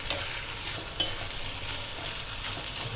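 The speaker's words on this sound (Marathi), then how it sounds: "तर मी हे टाकलं ना छान परतू देतं दोन चार मिनटं" Boiled pigeon pea grains (toor) with masala sauté in a pan for Khandeshi-style usal, a steady close sizzle with a few soft scraping stirs throughout.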